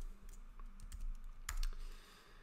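Soft, close keystrokes on a computer keyboard tap out a short, irregular run of typing, the clicks faint and sparse over a quiet room hum.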